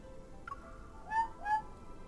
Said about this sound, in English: A small owl tilts its head and stares at me with those big round eyes.